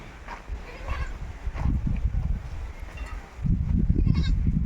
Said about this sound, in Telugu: వాళ్ళ మేకల దొడ్లు అండి రెండు దొడ్లు అయితే వేసుకున్నారు ఇట్లా నిండా మేకలు అయితే ఉంటాయండి